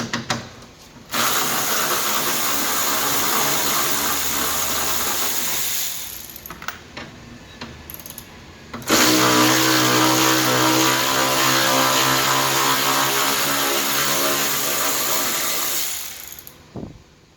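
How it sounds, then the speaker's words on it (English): Ratchet undoing 10mm nuts on top of the front wing of an Alfa Romeo Giulietta, rapid close-up clicking in two long bursts with a short pause between them, no voices. "I'm going to start by removing the 10mm nuts on top of the wing"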